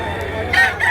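A three-year-old rooster crows loudly and close by, one short burst over faint background noise.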